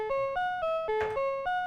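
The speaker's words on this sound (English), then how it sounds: "Piano sounds pretty crappy on this thing." A Casio MT-18 toy keyboard from the 1980s plays its thin, electronic piano voice in a bright, bell-like arpeggio of separate notes in a steady rhythm, each with a short sustain, close up with no talking.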